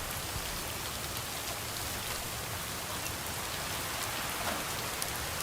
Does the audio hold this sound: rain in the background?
yes